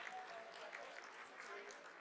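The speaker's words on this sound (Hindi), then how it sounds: "Lot of applause indicates that till now the performance has been nominal." Applause rolls through ISRO mission control during the Chandrayaan-3 soft landing, a faint, distant wash of clapping held steady throughout, quiet and soft with no clear individual claps.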